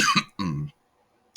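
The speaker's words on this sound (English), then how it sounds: "I'm sorry about me coughing during the video lesson." A person coughs and clears their throat close by, two quick rough bursts and then a brief third one after a pause.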